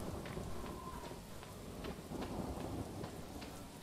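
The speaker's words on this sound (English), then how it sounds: "So I can hear rain." Rain falls steadily with low thunder rumbling in Arkham Horror: Mother's Embrace, a quiet, continuous storm hiss broken by soft repeated rolls.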